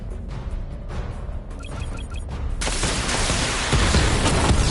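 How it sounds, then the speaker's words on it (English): A level 2 missile barrage firing in a video game, starting with quiet mechanical ticks and beeps, then breaking into a loud, dense, continuous roar of rapid explosive bursts that builds and holds to the end. "Missile barrage level 2 ready"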